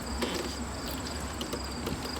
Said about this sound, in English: the crickets and the little frogs make noises all day long